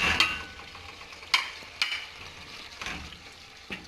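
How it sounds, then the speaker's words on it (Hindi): Spices going into a tomato, ginger and garlic paste for arbi masala, a soft sizzle broken by a handful of sharp scraping strokes from a spoon stirring in the pan. "अब हम इसमें अपने मसाले शामिल करेंगे"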